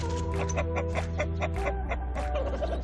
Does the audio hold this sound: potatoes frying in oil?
no